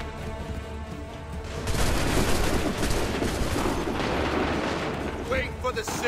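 A musket volley fired on command in Assassin's Creed III: a loud, crackling burst of massed gunfire that swells and rolls on for several seconds, with a voice calling out beforehand.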